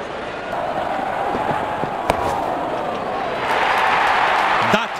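Crowd cheering and applause fill a packed stadium at a T20 World Cup cricket match between India and Australia as the openers walk out, a steady broad roar that swells louder toward the end.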